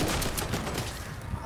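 Gunfire in Fortnite crackles through a short dense burst of rapid shots, loud and close, with no pause in the firing.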